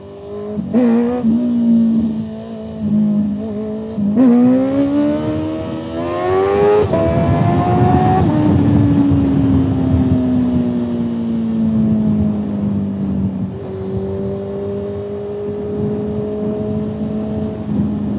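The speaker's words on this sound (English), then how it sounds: "there's no better feeling than doing a wheelie and then flying past somebody" A motorcycle engine revving hard as the rider pulls a wheelie and speeds past others, rising through gears in loud climbing pitches, then holding a long steady drone close by without talk.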